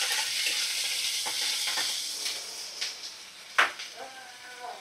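Ginger-garlic and cumin paste masala frying in a pan, a steady broad sizzle with soft scrapes and stirring clicks, one sharper knock near the end, close and moderately loud with no talk.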